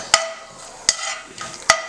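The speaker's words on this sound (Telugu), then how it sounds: "ఇది ఆయిల్ మనకు కొద్దిగా వేడెక్కగానే ఇందులో నేను దాల్చిన చెక్క, లవంగం, ఇలాచీ అండ్ షాజీరా అనేది వేసుకుంటున్నాను" Cinnamon, cloves, cardamom and shahjeera frying in hot oil for methi tomato rice, heard as a soft, close sizzle broken by three sharp clicks of a utensil against the pan.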